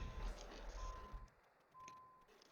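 Reversing beeps sound from a truck in the ProMods truck simulator game, two long steady electronic tones separated by a gap, heard over a low engine rumble that fades partway through.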